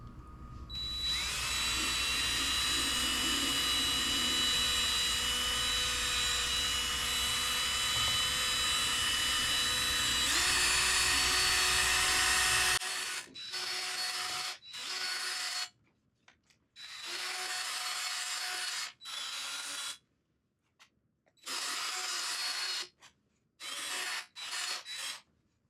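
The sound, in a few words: sanding foggy headlight with 3M white P800 sanding disc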